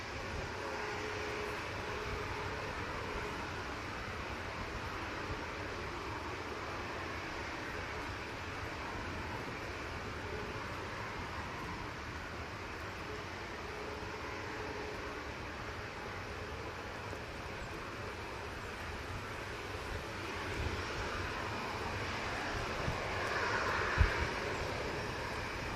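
A jet airliner departing Manchester Airport produces a distant, steady broadband roar of engines that holds for the whole stretch, with a slight rise toward the end and no talking.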